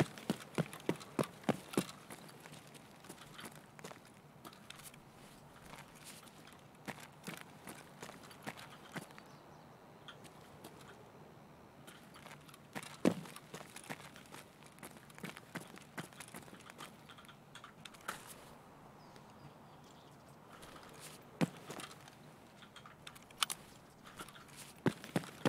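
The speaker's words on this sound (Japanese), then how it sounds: "飛行機の方で人の足音してる。" Footsteps of a person near the plane in Escape from Tarkov sound as faint, irregular soft thuds against a quiet background, scattered steadily across the whole stretch.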